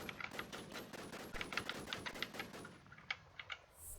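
Gunfire in the video game WarZ, rapid bursts of sharp shots in a quick, fairly even rhythm for about three seconds, then a few isolated shots, moderately faint with no talking.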